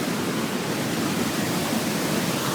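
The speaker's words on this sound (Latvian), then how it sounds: "Un augšas tiek laists mums ūdens virsū tagad." Water pours from above onto a Bayliner 2452 boat inside a Göta Canal lock, a dense, steady rushing splash heard close and continuous with no talking.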